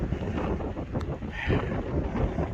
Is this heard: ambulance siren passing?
no